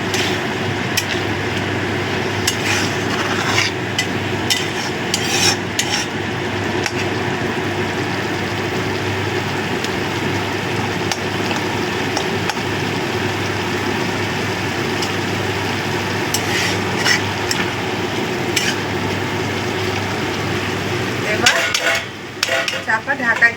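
Spinach leaves frying in a pan and being stirred, a steady loud sizzle with scraping and clinking of the spoon against the pan running throughout, close up, then trailing off near the end.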